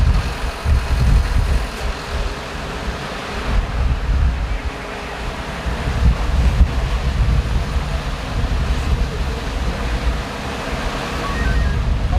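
Loud, continuous strong wind from a storm on the Fatih Sultan Mehmet Bridge in Istanbul buffeting the microphone, with a deep rumbling roar that surges and eases throughout.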